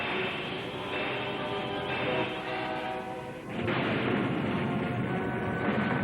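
A cartoon artillery barrage fires in the animated series Thunderbirds 2086, a dense, loud, continuous roar of blasts that briefly dips and then swells again partway through.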